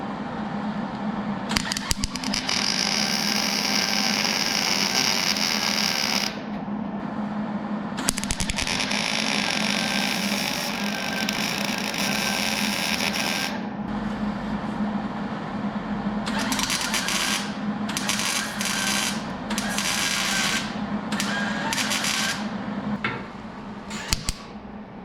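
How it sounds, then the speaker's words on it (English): Welder working on the car body of an AMC Hornet rebuild, a harsh crackling buzz in long sustained runs that later breaks into shorter bursts with brief gaps, loud and close. "I'm going to fire up the welder and start putting this thing into its forever home."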